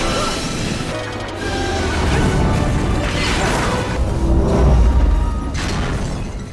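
Tanker ship blown apart by bazooka fire in an action film, heard as dense crashing and booming destruction with rumbling debris that swells and peaks midway, loud and continuous with no talk.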